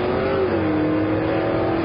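A drag racing car launches hard down the strip at a Hot Rod Drag Week event in Tulsa, Oklahoma, its engine a steady, loud, sustained roar with a rising then levelling tone, heard at a distance with no talk.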